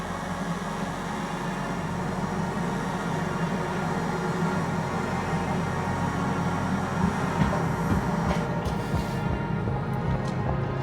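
A train in the video game Star Citizen arriving at Central Station, a steady low rumble and rolling hum with faint higher squeals near the end as it slows.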